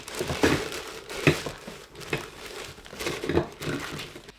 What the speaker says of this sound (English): open the top of the paper filter bag and place it inside the brewing container.